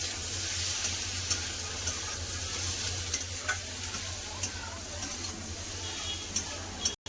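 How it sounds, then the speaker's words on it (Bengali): Spices with green chili, chili powder and cumin powder fried and stirred in a pan for a fish curry, a steady close sizzle with occasional light scraping taps of the spoon. "কাঁচা লঙ্কা দিয়েছে কম করে লঙ্কা গুঁড়া দিচ্ছে দিয়ে দেবো জিরা গুঁড়া ভালো করে কষে নেবো মশলা দিয়ে"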